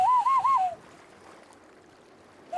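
At Pyramid Lake in western Canada, a man blows through his cupped hands to imitate a bird call: a loud, wavering hoot-like warble repeated three times, then quiet lakeside ambience before the call starts again.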